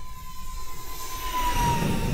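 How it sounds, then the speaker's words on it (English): A twin 40mm electric ducted fan model jet flies past, its steady high whine rising to a louder, closer rush near the end, with a thin constant tone running throughout and no talking. "It's a jet."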